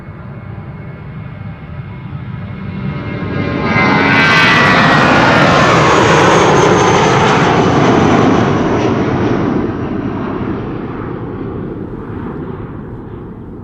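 A British Airways Airbus A320 jet airliner at Schiphol Airport gives a loud, steady engine roar that swells to a peak near the middle and then slowly fades, heard alone with no voices.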